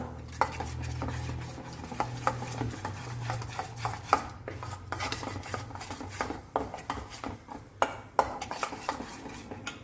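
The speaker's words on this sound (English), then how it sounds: "Mix all this nicely together." Tandoori chicken ingredients are mixed by hand with a utensil in a bowl, giving a continuous run of close scraping and clinking strokes in an uneven rhythm, with no speech.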